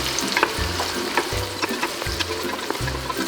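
Dried peppers and onions fry loudly in hot oil for a Oaxacan mole, a close, steady sizzle broken by regular stirring strokes in a rhythmic pattern, with no talking.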